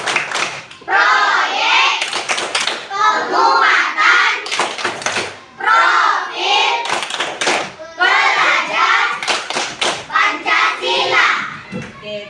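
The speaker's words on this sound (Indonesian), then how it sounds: "Siap-siap, kita akan bertepuk P5" Children perform the P5 clapping chant at an elementary school, with loud group clapping in bursts alternating with chanted voices, lively and close.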